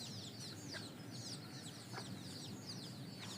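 Native hens cluck in a farm pen enclosed by netting, a repeated string of soft, chirpy calls over a steady outdoor background, with no voices.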